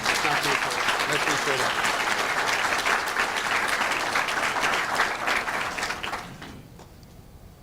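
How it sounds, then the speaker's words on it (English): An audience gives a round of applause for a speaker's friend at an April 2008 talk. Dense, loud clapping carries steadily for about six seconds and then fades quickly. Someone speaks briefly over it. "So if you can just give a round of applause to my friend."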